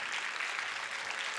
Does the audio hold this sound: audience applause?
yes